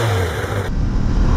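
A motorcycle engine runs through its stock exhaust with a low rumble. A brief, loud, close, steady engine drone.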